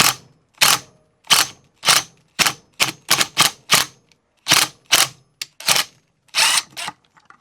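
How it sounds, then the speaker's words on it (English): A bearing puller works a bearing off a pulley during a Hydemotorworks Harbinger Black upgrade kit install on a BMW E36, giving a series of about a dozen sharp, close mechanical clicks and snaps in an uneven rhythm, with no talk. "we've got the pulley puller, the bearing puller on here"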